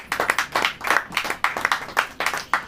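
Congregation in a church clapping hands in a brisk, regular rhythm, about three claps a second, close and fairly loud, with no talk over it.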